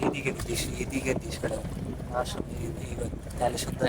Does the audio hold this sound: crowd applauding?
no